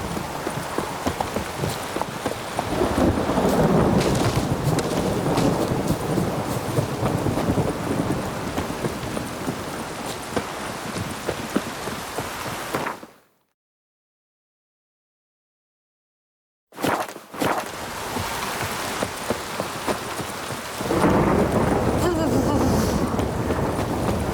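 Steady rain and rolling thunder fill a stormy scene in The Witcher 3: Wild Hunt, with horse hooves clip-clopping throughout, a brief silent gap midway, and voices talking over the constant wash.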